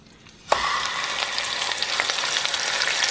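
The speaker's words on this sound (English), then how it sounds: "I'm warming up some oil in here because I'm going to sear the meat on all sides." Beef hits hot oil in a pan with a sudden loud sizzle that settles into a steady, close crackling hiss, preceded by a brief quiet moment.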